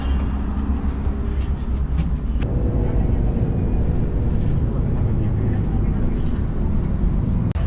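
A steady, heavy engine rumble fills the inside of a city bus riding through Abu Dhabi, with faint rattles and indistinct background noise over the drone.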